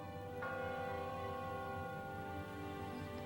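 A church bell rings, a sustained resonant tone with a single clear strike early on, ringing on evenly.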